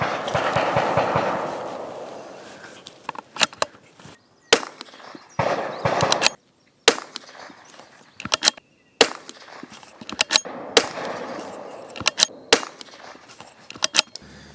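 Rifle gunfire at an active outdoor shooting range, including louder AR shots nearby, comes as a series of sharp, irregular cracks and bangs, some clustered in quick bursts and others spaced seconds apart, with echoes trailing off between them.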